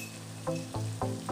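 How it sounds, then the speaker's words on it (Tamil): Masala spices with turmeric, chili powder and coriander powder frying in a pan on low heat for a Tamil chicken gravy, a steady close sizzle with three or four brief stirring scrapes at regular intervals. "நல்லா சிம்ல வச்சு இந்த மசாலா வந்து நல்லா ஃப்ரை பண்ணுங்க"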